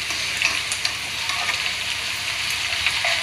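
Flat beans sizzling steadily as they fry in a pan, a continuous bright crackle with occasional pops, no voices over it.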